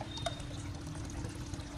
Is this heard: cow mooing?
no